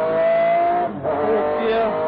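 A McLaren F1 GTR race car accelerates down a damp circuit straight, its engine a loud, close, sustained tonal roar that dips briefly mid-way as it shifts gear and then climbs again.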